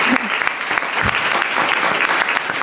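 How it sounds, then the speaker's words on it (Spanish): Audience members at a panel event on generative AI and authorship clap for a participant in a short, even burst of crowd applause with no gaps. "Y un aplauso también para Ezequiel."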